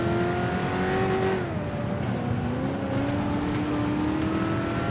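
Race car engine in the Forza 5 video game, a D class car, drones loud and steady with no voices, dipping in pitch through a shift and then climbing again as it pulls out of the last corners.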